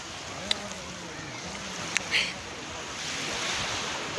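Steady ocean surf and wind wash over Kenyatta Beach in Kenya, a continuous broadband roar with a few sharp knocks and faint distant sounds, no talking.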